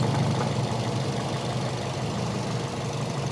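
A 2007 Toyota Yaris automatic engine idles in a steady low hum with a faint even ticking texture, heard close and unchanging with no voices.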